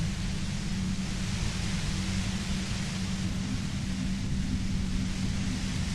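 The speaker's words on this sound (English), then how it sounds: "You hear through the white noise. It's especially bad suddenly." Steady, dense hiss of white noise from the video game Disco Elysium, loud and unbroken for the whole stretch, with a heavier low rumble beneath and no voices.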